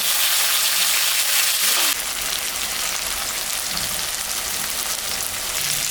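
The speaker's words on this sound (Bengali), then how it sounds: "এখন আমি একটা বেগুন আর একটা আলু কাটে রাখছি, এটা দিয়ে দেবো। একটু ভাজা ভাজা করে নেব" Cut potato and eggplant frying in a pan, a steady dense sizzle, close and loud, that shifts in tone partway through as the pieces settle in the oil, with no talk.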